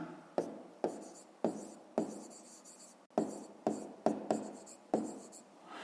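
A pen scratching on paper while a fifth-grade math exercise is worked out, in short repeated strokes at an irregular rhythm, about ten distinct bursts, close and quiet with no talking.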